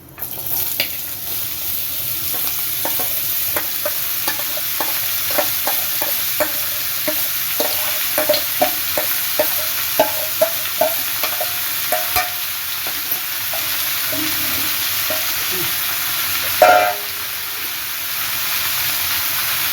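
Bottle gourd stirred and fried in a pan for a curry, with a steady sizzle and hiss and a run of regular scraping stirs, one louder clatter near the end.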